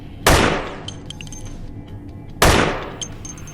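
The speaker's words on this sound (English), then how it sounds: "if I aim down sights and shoot and then unscope, the audio goes from directly in front of me to my right" Two sharp, loud gunshots from a gun in the zombie shooter Dead Effect, about two seconds apart, each a hard crack with a short decaying tail and faint clinks between them.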